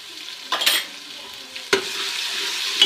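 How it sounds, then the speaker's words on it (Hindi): Ginger garlic paste sautéing with golden fried onions in a pan, a steady sizzle with two sharper bursts of stirring and scraping, close and fairly loud with no one talking. "1 मिनट इसको सौते करेंगे।"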